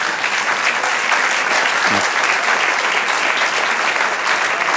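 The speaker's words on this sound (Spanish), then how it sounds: "Denle un aplauso al Señor." A church congregation applauds together during a Spanish-language sermon, a dense, steady wash of clapping that holds loud and even for the whole stretch with no speech over it.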